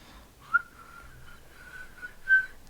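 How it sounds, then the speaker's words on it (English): A person attempts a whistle, producing a thin, wavering, fairly steady tone for about two seconds with a couple of louder breathy spots. "That's me trying to whistle."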